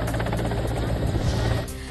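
A rescue helicopter flies over floodwaters in Maharashtra, its rotor thudding in a fast, steady, loud pulse that dominates the short stretch before easing slightly at the end.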